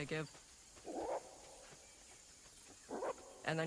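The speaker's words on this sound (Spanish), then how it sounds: "Hacen mucho el llamado ladrido, una especie de ladridos de alarma que producen." Short, gruff gorilla alarm barks come in three separate bursts, fairly faint and distant, with quiet stretches between them against a low background hiss.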